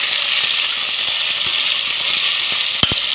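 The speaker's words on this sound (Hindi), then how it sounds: "और अब मैं इसको थोड़ी देर, दो चार मिनट ये फ्राई करूँगी" Food fries in a pan after salt is added, producing a continuous bright crackling sizzle with a quick metallic clink near the end, and no one speaking.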